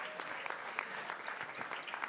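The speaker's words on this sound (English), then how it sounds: "Please join me again in giving a round of applause" Applause at a school board of education meeting for Teacher of the Year nominees, scattered rhythmic clapping from a modest crowd, faint and somewhat distant, with no talk over it.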